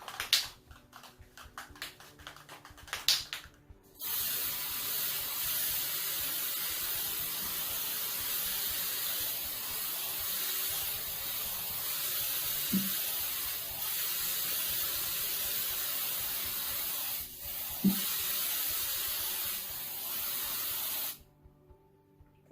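An aerosol can sprays a second coat of paint onto a bottle for a home craft project, giving a long, steady hiss that lasts most of the stretch after a few soft handling clicks, close and even.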